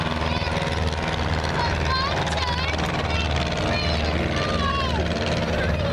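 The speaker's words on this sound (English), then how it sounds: "baby ultralight aircraft." A small ultralight aircraft flies at the Duxford air festival, its propeller engine droning steadily and fairly loud throughout, with voices faintly mixed in.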